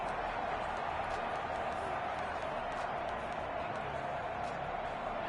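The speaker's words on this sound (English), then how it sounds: "That just means this crowd's going to get even louder" Stadium crowd noise from Madden 21 on PS5, Cincinnati at Miami: a steady, dense roar of fans holds unbroken at an even level from start to finish.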